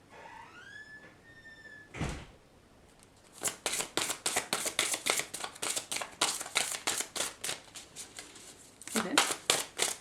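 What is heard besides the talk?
shuffling tarot cards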